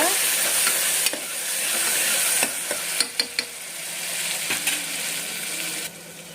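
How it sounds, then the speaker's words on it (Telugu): Ground onion paste fries in hot ghee and oil, making a loud, continuous close sizzle broken by a few sharp clinks and scrapes of a stirring spoon against the pan. "ఉల్లిపాయల్ని ఫస్ట్ వేయించుకోవాలన్నమాట"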